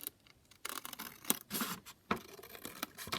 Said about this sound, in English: let's just cut out the